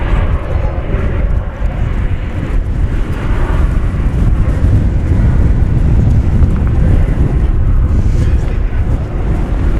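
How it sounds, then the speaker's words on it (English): Embraer 170 airliner on flight 4011 from Chihuahua, Mexico, at DFW Airport, a steady broad engine roar with wind buffeting the microphone, loud and continuous throughout. "That plane coming to us from Chihuahua in Mexico, flight 4011 in Embraer 170"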